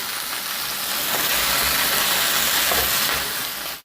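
Chicken pieces for Greek chicken fry in a hot pan with a loud, continuous close sizzle and hiss that swells slightly midway, then cuts off abruptly at the end.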